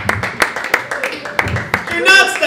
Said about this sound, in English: Keep clapping until he says something.